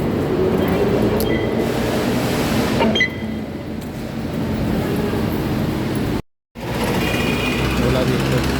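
A Manila MRT train rumbles through a metro station, with a loud, continuous low roar and faint metallic squeals above it, a brief dropout midway, and voices mixed into the background.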